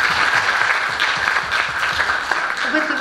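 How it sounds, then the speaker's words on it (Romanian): Audience at a Christian conference in Romania applauds steadily throughout, a dense, continuous clapping that stays even in level from start to finish. "un rând de aplauze pentru asta."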